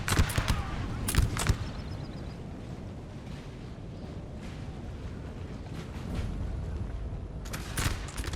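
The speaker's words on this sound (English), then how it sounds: "They'll roll around the corner and they fire yet another volley into them" Infantry in Napoleon Total War fire musket volleys, a crackling burst of shots near the start and another at the end over a constant low battlefield rumble.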